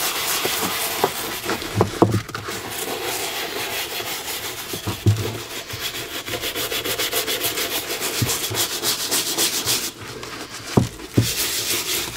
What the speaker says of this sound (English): So you're supposed to just take a soft bristle brush, I guess, and just rub it in.